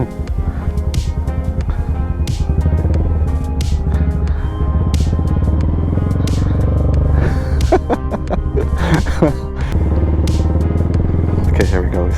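Honda Grom motorcycle engine rumbling steadily at low speed while making tight turns, its throbbing exhaust close and loud throughout with slight rises and dips in revs.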